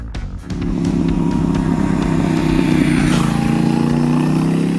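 A motorcycle engine starts up and idles loudly nearby, a steady throbbing rumble with a brief rise in revs partway through.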